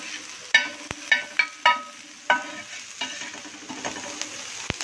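Onion and tomato sautéing in a pan for roadside egg kothu parotta, a soft steady sizzle broken by several sharp clinks and scrapes of a spatula against metal, with no talking.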